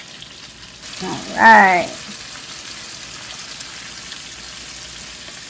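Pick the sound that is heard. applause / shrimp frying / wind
shrimp frying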